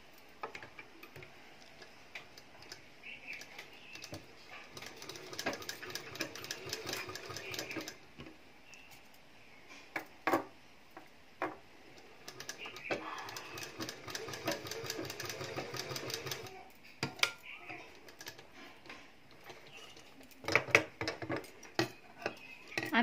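A sewing machine stitching cotton dhoti salwar fabric runs in several bursts of rapid mechanical ticking and whirring, with short pauses and handling noises between runs.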